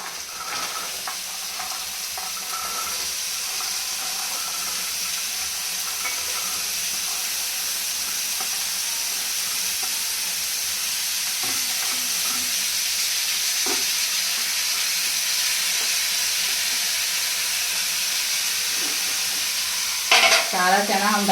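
Green chickpeas are tipped into hot masala oil in a pan and stirred, giving a steady, close sizzle with occasional scraping stirs and a louder clatter at the very end.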